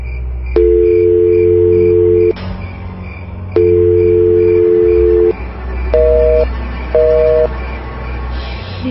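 A telephone call is dialed to a phone that is switched off, giving long steady tones, then a pause, another long tone, and two short paired beeps, loud and close over a low hum.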